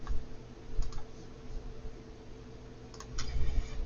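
A computer mouse clicking during setup of a browser wallet extension, giving a few faint, sharp clicks in small pairs over a steady low hum, with no talking.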